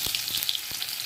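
Boiled potato pieces fry in hot oil in a kadai, giving a steady, close sizzle with faint crackles and soft stirring taps across the whole short stretch.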